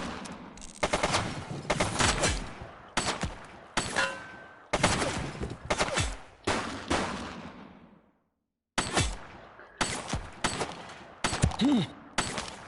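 Repeated bursts of gunfire in The Precinct video game, a series of sharp loud volleys and rapid shots separated by brief pauses, with one short silent gap midway.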